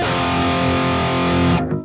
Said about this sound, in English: So you see already we are introducing a lot of distortion.